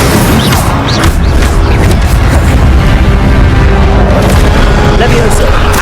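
A fire spell bursts in the Hogwarts Legacy video game, a loud, dense whooshing roar that fills the whole moment at close range, with a voice speaking over it.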